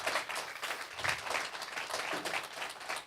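Applause from an audience at a behavioral health event, a continuous mass of clapping at moderate level with a few louder swells, no talking over it.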